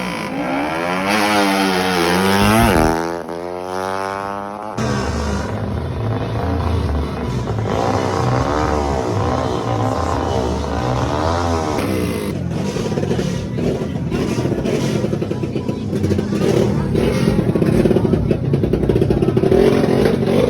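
Drag-race motorcycles and trail bikes test riding at a legal drag racing event in Bayawan City, with loud engines revving and accelerating up and down, passing bikes whining near and far in a continuous roar.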